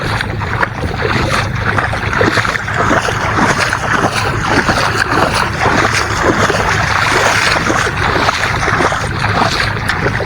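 Loud, continuous rush of a boat moving across water, with steady wind and engine-like noise filling the whole stretch.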